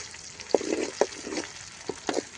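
Dried red chillies with their seeds removed fry in a pan with a soft, steady sizzle. A few sharp crackles and stirring scrapes sound close by over a short stretch, and no one speaks.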